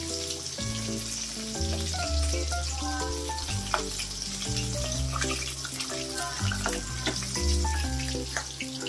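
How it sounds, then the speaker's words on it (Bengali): Pieces of fish deep-frying in a kadai of hot oil give a steady sizzle that sits beneath loud, continuous background music. "মাছগুলো কিন্তু খুব ভালোভাবে ভাজা হয়ে যাচ্ছে"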